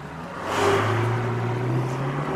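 A Ferrari California T with a 560 hp engine accelerates hard, a close, steady engine tone rising in pitch over a couple of seconds with no voices.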